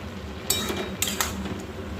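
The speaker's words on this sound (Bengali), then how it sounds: "চলুন মাঝে একবার এটাকে একটু নাড়াচাড়া করে দিই" A spoon stirs cauliflower and potato curry, cooked with very little oil, in a pan, giving three faint metallic clinks and scrapes over a quiet background hum.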